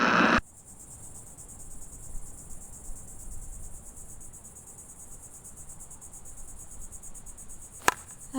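Crickets chirp in a dense, continuous high trill that runs unbroken and fairly close, with a single sharp click just before the end and no one speaking.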